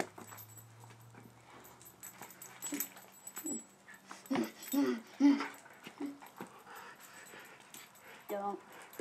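Dogs whimper and yip faintly indoors in a few short, scattered bursts, with voices audible at times.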